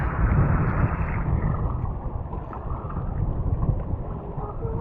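A small boat with a failed engine caught at sea in a storm, with heavy wind buffeting and rushing water around the hull, a constant low roar without speech.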